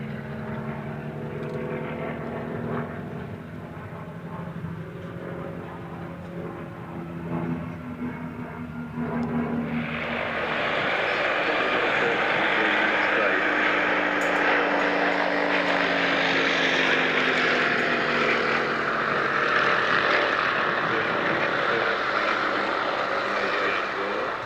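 A Percival Provost piston trainer flies at an airshow, its propeller engine droning with shifting pitch and a louder, fuller roar after the first third, with a voice speaking over the first part.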